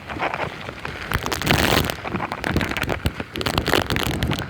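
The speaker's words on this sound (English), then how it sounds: "The rain's coming in just sideways." Heavy hurricane rain lashes down sideways with gusting wind buffeting the microphone, a dense, roaring downpour with no voices.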